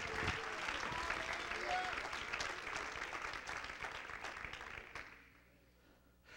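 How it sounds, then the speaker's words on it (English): A church congregation claps in worship, with loud, dense rhythmic hand clapping that fades off near the end into a quiet hum. "Let's clap our hands to the Lord."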